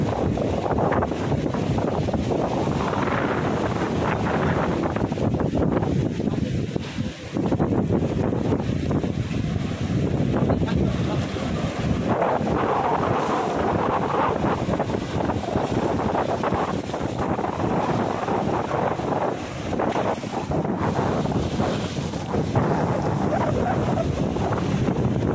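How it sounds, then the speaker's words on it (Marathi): Cyclone-driven sea waves surge against a seawall on the Konkan coast while strong wind buffets the microphone in a continuous loud roar with no break. "त्या लाटा बघा काय त्या बघा. आणि ही लाट बघा, या उसळ्या बंधाऱ्यापर्यंत पूर्ण लाटा गेलेल्या आहेत."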